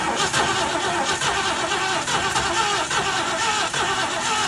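A 1969 Mercury Cougar XR7 convertible engine cranks steadily for several seconds, a loud continuous churning with faint rhythmic pulses, heard close up with no talking.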